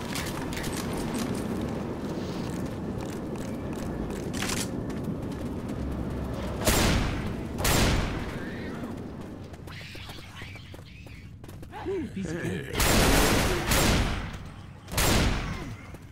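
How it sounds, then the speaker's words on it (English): A mounted big gun in Left 4 Dead fires at a barricade, heavy booming shots crashing over a noisy game backdrop, with two or three sharp blasts and a bursting salvo near the end. "We can fire that big-ass gun to break the barricade."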